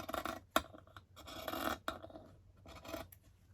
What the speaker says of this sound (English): we're just going to trim it down here